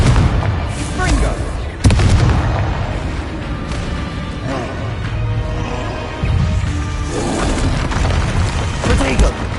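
Exploding Bombarda and Confringo spells in the Hogwarts Legacy video game give repeated heavy booms and crackling blasts over dense, loud game noise, with a voice calling out over the action.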